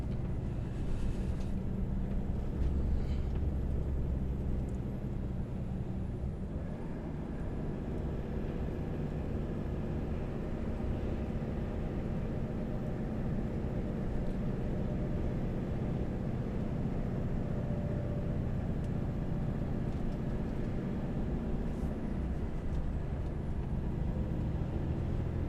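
A heavy truck engine labours steadily up a snowy, icy mountain road in frosty Lofoten, a continuous low rumble with a broadband drone and no speech.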